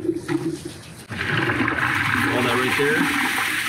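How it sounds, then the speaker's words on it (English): After a brief spoken remark, a loud rush of RV black tank sewage gushes and pours steadily into a drain, continuing strongly to the end. "I'm going to pull the black tank first, and you can hear a big gush"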